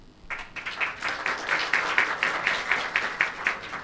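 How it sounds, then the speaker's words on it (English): Applause from an audience at an academic debate competition honoring student clubs, a steady wash of many hands clapping with rhythmic accents, moderately loud and continuous. "please give a big round of applause from the Bhutanese student clubs"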